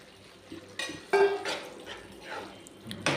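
Half-boiled drumsticks dropping into a pot of cooked curry gravy, giving a few soft clattering thuds and wet stirring knocks that fade quickly.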